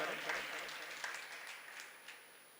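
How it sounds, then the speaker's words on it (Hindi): An audience at an International Yoga Day programme claps steadily, a dense, fairly soft patter of many hands that fades slightly toward the end, with faint voices beneath. "एक बार जोरदार ताली स्वागत करें,"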